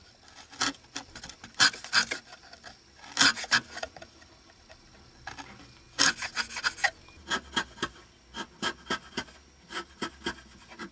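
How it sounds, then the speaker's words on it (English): Firmer chisel paring the centre section of a carved wooden love spoon, short scraping and rasping strokes in uneven bursts with quiet pauses between them, close up and without talk. "we're going to clean up the centre section with the firmer chisel"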